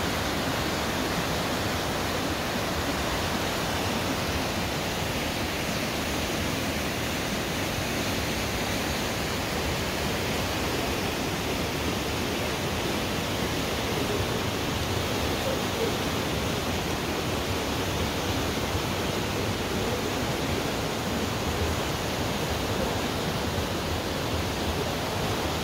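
A creek in Ketchikan, Alaska, where salmon swim upstream, flows as a steady, unbroken broadband rush of water that holds an even level throughout with no voices over it.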